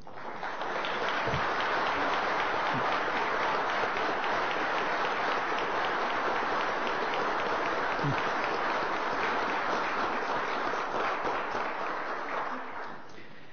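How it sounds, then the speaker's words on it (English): A sustained round of applause from the attendees of a city environment and climate protection committee meeting, honouring award nominees, with dense, even clapping that swells in and carries on for many seconds before tapering off. "I invite everyone to join me in a round of applause for their outstanding contributions"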